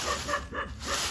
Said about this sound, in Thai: ฟังเสียงหมาเห่าเด้